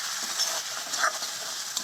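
A paste of ginger, cumin and chili with tomato, salt and turmeric sizzles and is stirred in a pan, a soft, close hiss with faint scraping for a moment.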